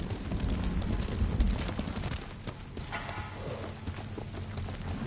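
Horse hooves clip-clop at a steady gallop in Ghost of Tsushima on PS5, loud and close, with a brief whinny-like sound near the middle and game ambience underneath.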